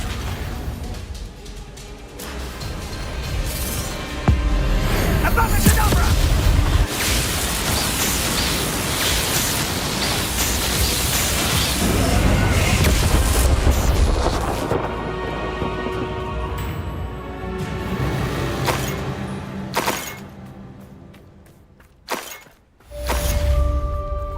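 Spell explosions in Hogwarts Legacy gameplay during a boss fight against Rookwood, with repeated loud bursts, shattering crashes and roaring noise over a long stretch, then sudden drops to near silence.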